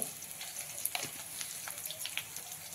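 Hot oil sizzling in a pan as a pinch of asafoetida (hing) goes in, a steady soft frying hiss with small crackles and pops, close but quiet, no talking.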